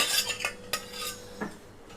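Metal pan set on a gas stove in a home kitchen before okra chutney is made, a few sharp clanks and scrapes of metal against the burner grate, close and isolated.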